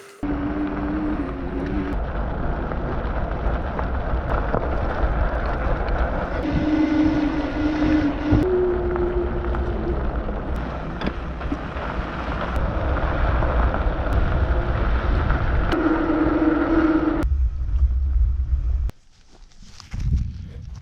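An e-bike ridden outdoors on a solo hunting and camping trip gives a steady, close motor whir with rumbling wind and road noise that runs almost throughout, then drops off near the end.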